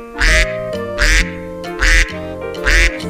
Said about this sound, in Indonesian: Ini ada seekor bebek berwarna putih.